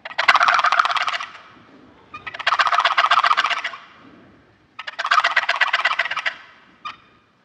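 A two-sided wooden box turkey call is worked hard to imitate a gobbler, giving three loud, rattling gobbles of about a second each, close and alone, with a short fourth burst trailing at the end.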